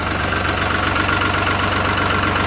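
A tractor engine runs steadily at idle during paddy-field spraying work, a continuous low, throbbing drone with a faint knock, holding at even loudness throughout with no voices.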